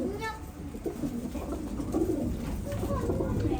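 Soft pigeon cooing in a busy outdoor space, with low murmuring voices and background noise running steadily throughout.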